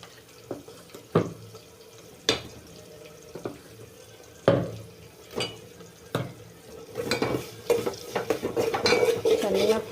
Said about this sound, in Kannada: ನೋಡಿ, ಈ ಥರ ಫ್ರೈ ಮಾಡ್ತಾ ಮಾಡ್ತಾ ಇದೆಲ್ಲ ಎಣ್ಣೆ ಬಿಟ್ಕೋಬೇಕು ಚೆನ್ನಾಗಿ ಫ್ರೈ ಆಗಿ.